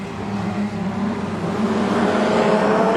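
Street stock race cars roar together at Carina Speedway, a loud, steady wall of engine noise building slightly as the pack runs close around the oval.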